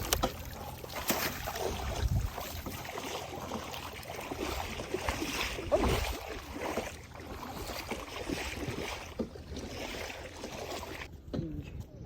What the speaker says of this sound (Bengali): এখন আমরা নৌকা চালাইমু হাওরের মধ্যে